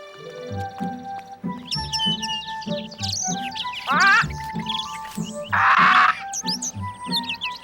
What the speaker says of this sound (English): Oh, Papa, don't you just love the birds?